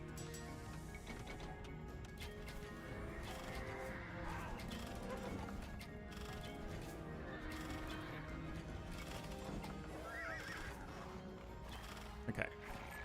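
Horses in the video game Chronicles: Alexander the Great neigh and whinny amid clip-clopping hooves, clattering impacts and a busy battle din, all fairly faint and continuous.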